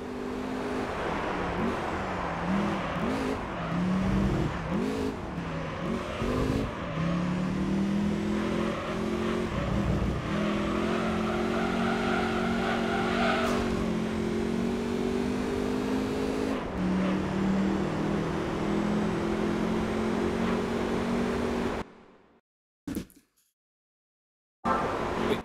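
A car engine in the Gran Turismo 3 video game drones and revs continuously, pitch rising and falling with gear changes, loud and steady for over twenty seconds before cutting out abruptly near the end.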